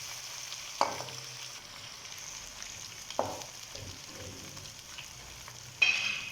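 Onions and spices frying for palak gosht, a spinach and meat curry: a low steady sizzle from the pan, broken by a few sharp stirring scrapes, fairly quiet and close, with no talking.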